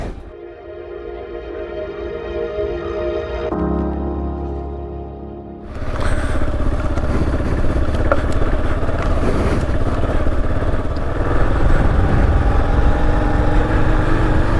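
A Kawasaki KLR 650 adventure touring motorcycle rumbles steadily, starting with an engine note that shifts in pitch, then giving way to a louder sustained ride with strong wind and road roar, up close and without talking.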